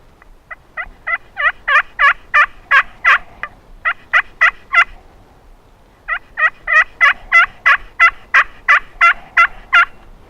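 An HS Undertaker turkey box call run by hand outdoors, producing loud, close series of raspy yelping clucks in two rhythmic runs of about a dozen notes each, separated by a short pause.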